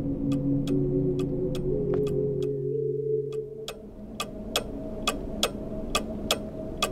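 Ticking clocks in an office in The Silent Age, sharp regular ticks over a low droning hum, the hum shifting partway through while the clicks grow crisper and more evenly paced.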